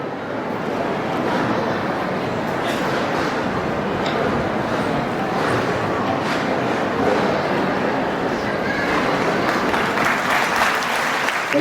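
Sustained applause from an audience at a Srimad Bhagavatam spiritual gathering, dense and steady clapping that holds at an even, fairly loud level from start to finish.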